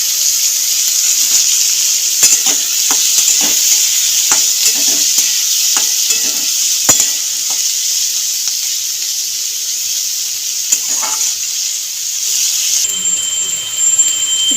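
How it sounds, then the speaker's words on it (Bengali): Carrot, potato, beans and onion fry in a pan, a loud, constant sizzle broken by frequent sharp clinks and scrapes from stirring, with a short pause in the action near the end. "গাজর, আলু, বিনস আর পেঁয়াজ দিয়ে দিয়েছি, ভাজা হয়ে এসছে"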